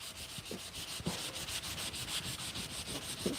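Hand sanding with fine-grit sandpaper makes rhythmic back-and-forth scratchy strokes, close and fairly quiet, repeating steadily without pause.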